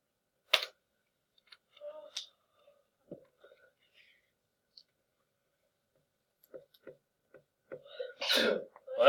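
A sharp sneeze bursts out near the end amid scattered soft clicks and faint whispery sounds in an otherwise quiet room.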